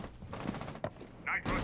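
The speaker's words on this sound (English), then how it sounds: "Swapping mags." Weapon magazine swap in the Rainbow Six shooter game: a few quick mechanical clicks and a ratcheting clack, short and fairly close, under ongoing game noise and some voice.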